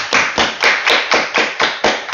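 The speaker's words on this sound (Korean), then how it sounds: "우리 박수로 하나님께 영광 올려드리겠습니다" A church congregation applauds together at a midnight New Year service, a dense steady clapping with rhythmic pulses about four per second, loud and close, with no talk over it.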